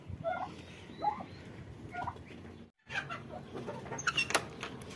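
Free-range chickens, a black rooster and small turkey chicks on a rooftop give soft clucks and short calls at a moderate distance, with scattered chirps, a brief dropout, and no talk.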